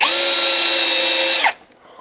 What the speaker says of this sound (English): one hole drilled, on to the next